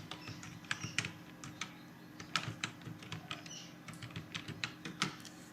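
Rapid typing on a computer keyboard while writing text in MS Word, with irregular bursts of close, crisp key clicks and no talking.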